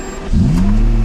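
A Lamborghini Murcielago V12 supercar in the Forza game starts up and revs, a loud, close engine roar rising quickly in pitch after a brief quieter moment.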